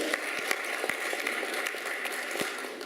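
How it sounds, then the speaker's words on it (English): A crowd at a business forum applauds steadily for medal winners, dense clapping from many hands filling the space with no talk over it. "So let's give them good applause for their medal."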